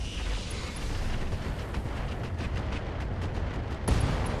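Mech weapons fire in the RogueTech BattleTech video game, heard as a rumbling, continuous barrage of booming shots and blasts with a heavier impact near the end.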